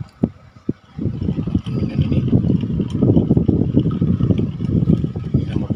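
A Hakamitsu Minion electric fan switches up to speed two after a couple of clicks, then blows with a loud, fluttering rush of air close by.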